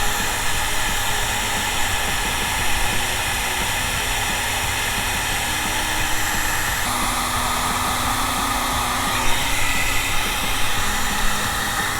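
A heat gun blows a steady, loud hot-air rush across heat shrink tubing on truck wiring, a constant hiss that holds unbroken for the full length with only small shifts in tone and no talking.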